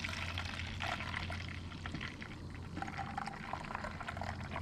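Liquid micronutrient poured into a lawn sprayer tank, a steady close splashing pour running for several seconds with slight surges, no talking.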